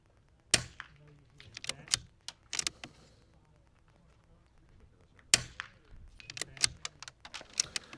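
Rifle shots at an NRL22 .22 shooting match ring out as two sharp cracks several seconds apart, each trailed by a scatter of clicks, clatter and faint distant pops, with quiet voices in between.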